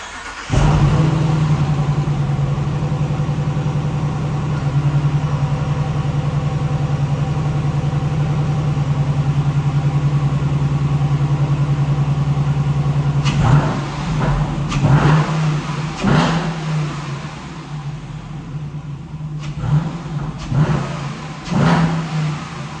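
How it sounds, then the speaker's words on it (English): A 2023 Dodge Durango R/T 5.7L HEMI V8 engine with a cold air intake cranks and rumbles to life, idles roughly for a long stretch, then revs loudly in several sharp bursts. "Now I'm gonna start the truck up and, you know, see if it sounds any different."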